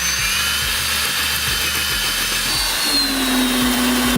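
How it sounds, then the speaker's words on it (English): A power drill whines steadily as it bores through a wooden header, its pitch shifting partway through, loud and close, with a low grinding rumble underneath. "So, time to drill this hole through the header."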